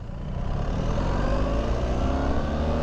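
A 2025 BMW R 1300 GS Adventure motorcycle pulls away on the throttle, a steady low engine drone with rising rumble heard up close under wind noise.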